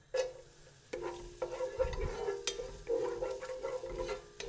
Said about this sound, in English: While the garlic is beautifully sizzling away